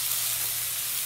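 Scallops searing in hot oil in a pan give off a steady, bright sizzle, close and constant with no talk over it.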